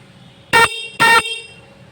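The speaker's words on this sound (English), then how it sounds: "And what about the horn?" Horn of a Bajaj Pulsar 135 LS BS3 motorcycle, checked after rewiring: two loud, short honks about half a second apart, each a bright steady buzzing tone, alone with no talk.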